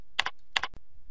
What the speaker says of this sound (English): type in the semester code